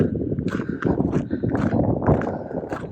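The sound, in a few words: ponies hooves clip-clopping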